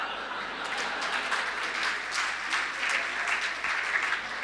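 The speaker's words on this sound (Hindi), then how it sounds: "अब तालियां बजा देना।" An audience applauds at a Hindi poetry gathering, a steady wash of clapping from a crowd lasting several seconds at moderate volume.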